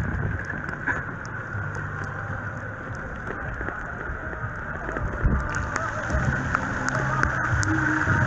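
Heavy downpour on the Marmaris seafront in December, a dense steady hiss of rain with scattered patter of drops on surfaces and faint traffic rumble beneath.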